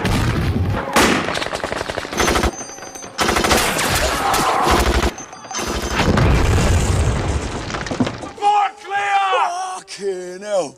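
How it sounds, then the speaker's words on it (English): Zombie film battle on a military base as soldiers fight off an attack: loud, dense bursts of machine-gun fire and heavy booming explosions with brief gaps, followed by shouting and yelling voices near the end. "The soldiers scramble, gunfire erupts, chaos explodes across the base"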